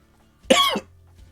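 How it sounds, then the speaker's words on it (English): A single short, harsh cough, close and fairly loud, with a throat-clearing edge, followed by quiet. "I'm coughing already."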